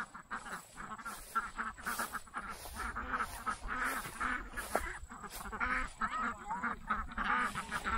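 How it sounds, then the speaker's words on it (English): A flock of farm ducks at a pasture-based farm gives repeated loud quacks that overlap in busy bursts, with some goose-like honks mixed in, close by and steady throughout. "Look at all these ducks."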